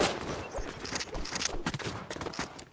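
Rapid, sharp hand cannon gunshots in Fortnite fire in quick succession, loud and close, with a crackling burst-like rhythm throughout.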